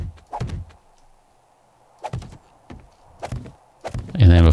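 Iron spikes set down one after another in the video game 7 Days to Die alpha 17, heard as sharp close thunks in small clusters over a steady low hum, with a brief noise swell at the end.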